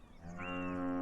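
A cow in the video game Beyond Eyes gives a loud, close, sustained moo that swells steadily over about a second, with nothing else heard.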